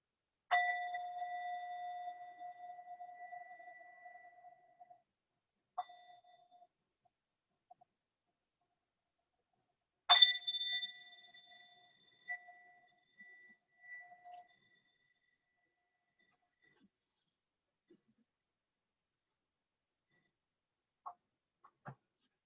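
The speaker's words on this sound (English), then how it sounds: "In a moment, I'll ring the bells." Mindfulness bells ring twice with clear, sustained metallic tones, the first fading over about five seconds and the second struck around ten seconds, separated by quiet, with a few faint taps near the end.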